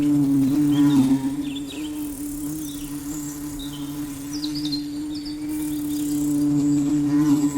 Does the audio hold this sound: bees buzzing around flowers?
yes